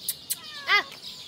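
A cat meows once, a clear rising-falling call close by, near an outdoor cooking spot where chicken is being prepared, with faint clicks before it.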